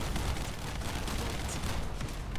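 Dense, continuous gunfire from a boss enemy in the video game The First Descendant, a steady loud barrage of rapid shots running through the whole moment with no pauses.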